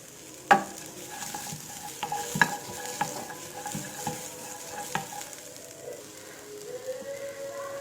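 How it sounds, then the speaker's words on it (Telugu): Thinly sliced fresh coconut pieces and chopped onions frying in a pan, a soft steady sizzle broken by scattered clicks and scrapes of stirring, close and fairly quiet with no talk. "పచ్చి కొబ్బరి మీరు ఇలా సన్నంగా తరుముకొని వేసుకుని కొంచెం అటు ఇటు కొంచెం వేగేలాగా వేయించుకోండి"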